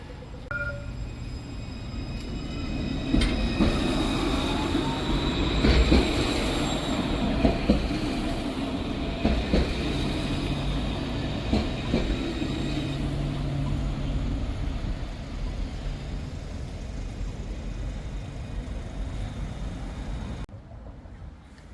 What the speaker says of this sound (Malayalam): ഈ വരുന്നതാണ് ലുവാസ് കേട്ടോ